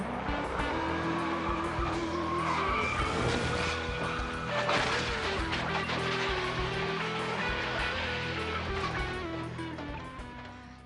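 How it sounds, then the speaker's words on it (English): A NASCAR stock car spins and crashes at Talladega, with a loud continuous roar of race engines, squealing tires and skidding across most of the clip before the noise slowly fades. "the 2 is spinning. Obviously, he's already lost control, makes more contact with the 3."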